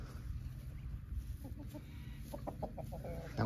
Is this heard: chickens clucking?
yes